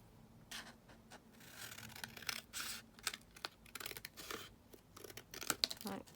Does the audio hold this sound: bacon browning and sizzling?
no